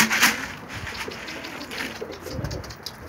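Pigeons coo softly in a loft, a few low rounded calls rising and falling close by over a quiet background, with no speech.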